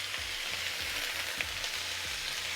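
Chunks of moose meat browning in oil in a cast iron pot, giving a constant close sizzle and crackle with a few soft, regular bumps as the pieces are moved, with no voices.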